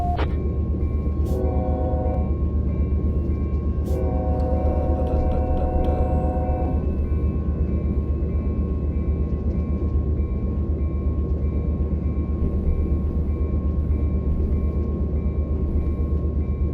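A freight train rumbles steadily past on a Southwest mainline in the Run8 V2 train simulator, with a constant low roar and a few brief horn-like tones early on.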